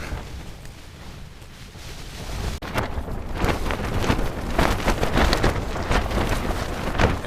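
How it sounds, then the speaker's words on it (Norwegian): Steady rain patters on a tent during a windy storm on a paddling expedition in northern Canada, with gusts swelling and a continuous dense hiss. "Det regner nå."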